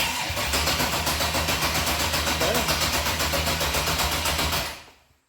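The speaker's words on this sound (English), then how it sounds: "Sounds pretty decent just to be turning it over." An S10 truck with a 6.0 engine cranks over with a steady rhythmic chugging, loud and close, then cuts off abruptly into silence.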